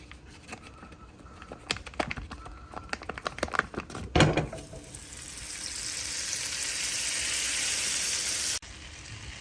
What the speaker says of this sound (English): Salmon steak is fried in Kerrygold butter.